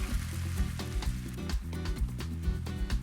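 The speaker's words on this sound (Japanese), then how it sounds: "ネギを加え炒めます。" Green onions stir-fry in a hot pan with steady loud sizzling and rhythmic scraping stirs, close up and with no voices.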